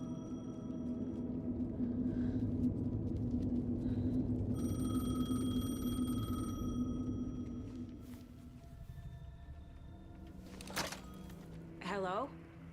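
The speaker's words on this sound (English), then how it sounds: "The payphone was ringing." A payphone ringing in the game Alan Wake 2, repeated electronic rings over a low rumbling ambience, moderately close, with a voice speaking over parts of it.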